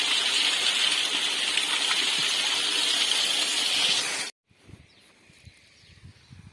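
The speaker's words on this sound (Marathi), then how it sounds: "इकडे पोळा आहे झरा" A hill stream rushes and gushes steadily nearby for about four seconds, then cuts off abruptly, leaving only faint outdoor background sounds.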